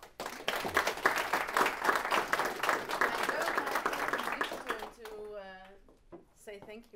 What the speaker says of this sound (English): just one more applause, please